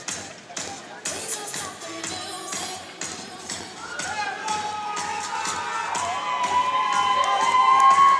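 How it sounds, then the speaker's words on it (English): A crowd at a varsity high school hockey game in an arena cheers and shouts. The noise starts with scattered claps and thumps, then swells into sustained loud cheering and whistling over the final seconds. "Crowd here getting amped up to see this third line getting some ice time, Abby."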